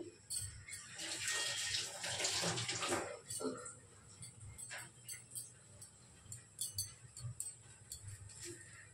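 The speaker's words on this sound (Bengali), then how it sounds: "দাঁড়াও চামচটা একটু ধুয়ে নিই।" A spoon washed under running tap water in a home kitchen, a loud rushing stream for about three seconds, then quieter trickles and splashes with faint clinks of the spoon.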